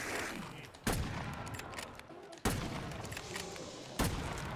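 Three heavy sniper rifle shots ring out in the video game Call of Duty Modern Warfare 2, each a sharp loud crack with a lingering rumbling tail, spaced roughly a second and a half apart over a busy game background.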